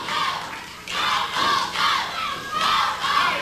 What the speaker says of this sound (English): The fans yelling, "Go, Paul, go."